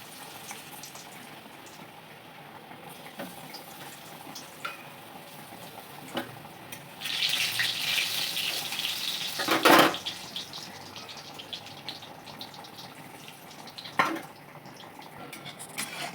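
Raw banana kofta balls are lowered into hot oil in a pan, setting off a loud, hissing sizzle that swells for a few seconds and then settles into a quieter bubbling, with a few light clicks from the utensil.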